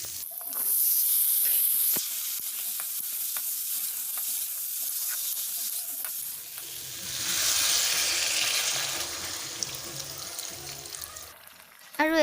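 Sliced onions sizzle and hiss in hot frying oil in a wok that had been used to fry pointed gourd, a steady crackling fry with stirring scrapes throughout, swelling louder partway through.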